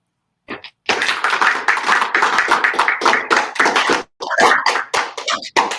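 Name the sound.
audience applause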